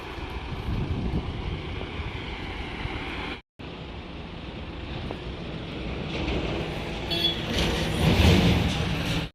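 A vehicle goes by on the Mumbai–Goa highway as a broad roadside rumble that swells and grows louder toward the end, with no voices.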